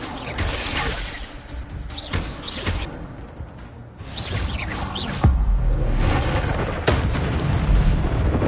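In Hogwarts Legacy, an Incendio fire spell erupts with a roaring whoosh and booming bursts amid battle noise, loud and close, with sharp impacts standing out over the din.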